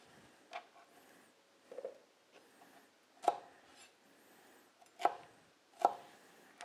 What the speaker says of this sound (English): just chop off the 2 peppers as well